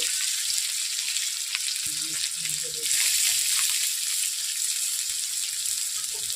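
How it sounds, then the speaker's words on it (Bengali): Onion and tomato fry with nigella seeds in hot oil in a wok, giving a steady, loud, close sizzle that runs throughout with faint stirring underneath and no talking. "তার জন্য আমি কড়াইতে প্রথমে তেল দিয়ে দিয়েছি এরপর দিয়ে দিলাম কালো জিরে"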